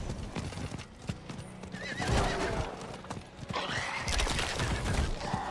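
Horse whinnying and hooves clip-clopping in the Diablo 4 video game, loud and close within a busy mix of combat and effects.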